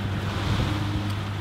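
Strong wind roars steadily on a small fishing boat at sea, with a low rumbling buffet across the microphone and no voices.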